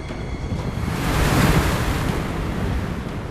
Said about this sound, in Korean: 매섭게 몰아치는 파도.